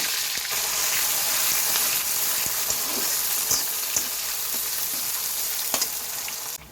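Small onions, vadagam and cumin fry in a pan for a cumin kuzhambu, making a loud, continuous sizzle with scattered crackles and light stirring taps throughout.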